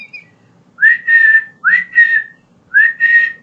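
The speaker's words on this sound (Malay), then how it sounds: "Contohnya bersiul begini." A person whistles a short repeated phrase three times, each a rising then steady tone in two quick bursts with brief pauses between, alone and close over faint low background noise.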